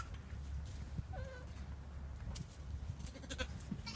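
Day-old baby goat kids let out a few small, faint bleats, brief high cries over quiet background rustling.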